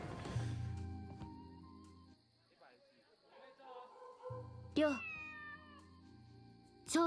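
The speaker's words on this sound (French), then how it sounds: "Pourquoi il y a un bruit de chat?" Repeated cat meows during a Shenmue 3 playthrough, rising over in-game music and dialogue, with two louder meows near the end.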